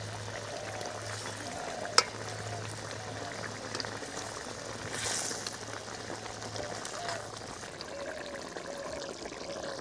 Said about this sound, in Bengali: ঝোল ফুটে গেছে, আমি মাছটা দিয়ে দিচ্ছি।